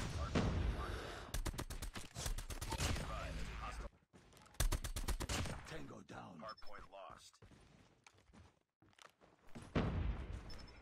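Automatic gunfire from a fan-favorite three-tap gun in COD Mobile rattles in dense, rapid bursts with brief gaps, loud and up front, while a player talks excitedly over it.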